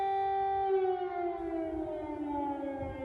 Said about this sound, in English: The sirens sounded to warn of more incoming fire